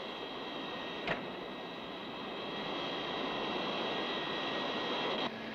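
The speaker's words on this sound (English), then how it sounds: "Seven 4 Bravo, ready for takeoff" Airplane engine revving steadily for takeoff on runway 27, a continuous droning roar with whining tones, growing slightly louder midway, heard alone with a couple of brief clicks.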